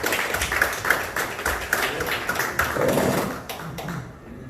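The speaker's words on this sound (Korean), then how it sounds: "박수 부탁드립니다" Audience applause at a formal national prayer breakfast gathering, a steady, dense patter of many hands clapping from a room of people, sustained and then tapering off toward the end.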